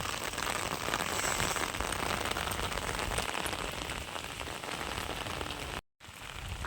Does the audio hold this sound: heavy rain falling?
yes